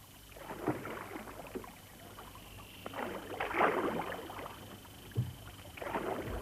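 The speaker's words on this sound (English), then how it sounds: "It's easy to paddle through the water." Canoe paddle strokes splash and swish through water at an unhurried pace, close by, with gentle drips between strokes and no talking.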